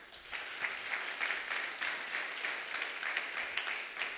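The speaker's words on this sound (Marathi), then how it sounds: "मोठ्याने टाळ्या वाजवूया प्रियानो" A church congregation claps together in a fairly even rhythm for several seconds. The applause is moderately loud and slightly distant, with no one speaking over it.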